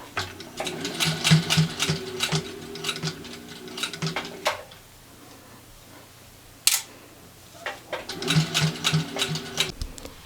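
A home sewing machine stitches a glove cut from a T-shirt, running in rapid clattering bursts with a pause and a sharp click midway before stitching resumes.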